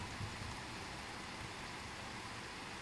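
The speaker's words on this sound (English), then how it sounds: "yeah, it's raining, I know" Steady rain falls outside, a constant even hiss with a low rumble underneath and no talking, forming a continuous backdrop indoors.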